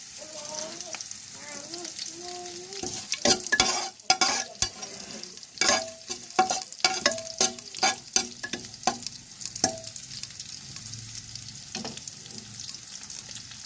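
Dried chillies and torn bay leaves fry in hot oil with whole cumin for a jackfruit curry, giving a steady sizzle broken by repeated sharp scraping and stirring clatters of a utensil against the pan, close and fairly loud.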